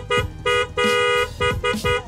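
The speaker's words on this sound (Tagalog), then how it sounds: "meron tayong malakas na busina tulad ng G-Star horn" Loud aftermarket G-Star horn on a Yamaha Aerox scooter, blaring in several short and longer bursts with a harsh, buzzing multi-tone sound, close and dominant.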